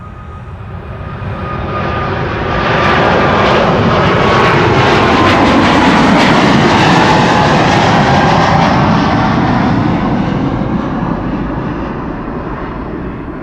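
Garuda jet in retro livery taking off from runway 24 at Amsterdam Schiphol, a loud broadband engine roar that builds, holds strongly, then slowly fades as it passes.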